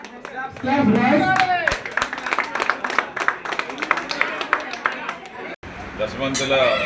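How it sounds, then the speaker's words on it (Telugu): Boys clap together at a gym institute's fourth anniversary celebration in Visakhapatnam, a steady ragged burst of applause that runs nearly throughout, with a brief gap near the end and a voice speaking over it. "Very good claps boys."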